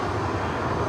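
A Southwest Boeing 737-800 jet roars steadily on its takeoff run from LAX runway 24 right, a loud, continuous engine rumble with no voices over it.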